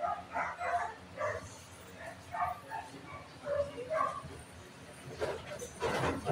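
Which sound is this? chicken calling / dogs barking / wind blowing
dogs barking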